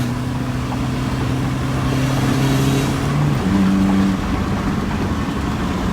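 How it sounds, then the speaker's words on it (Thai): A loud, tuned car engine with an aftermarket ECU box drones steadily at high revs at full throttle, its pitch holding then jumping higher before settling, with no voices over it. "เอาเหยียบให้สุดคันเร่งเลย"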